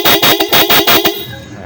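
A battery-operated motorcycle horn honks in six quick, loud blasts close by, evenly spaced like a rapid pulse, then stops, leaving a faint background murmur.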